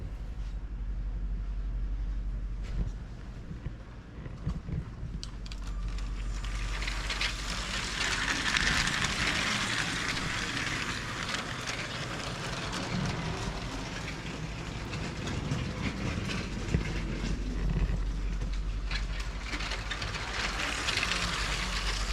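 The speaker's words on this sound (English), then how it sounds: "Speaking of moving the trains out of the way." Battery-powered model trains with low batteries running at full power on a track loop, giving a continuous whirring, rattling motor and wheel noise with faint clicking, steady and fairly close throughout.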